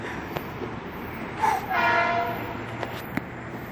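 A Metro-North M8 electric train arrives at Stamford station, a low rolling rumble with a brief squeal of brakes midway and a few clanks, fairly distant and steady.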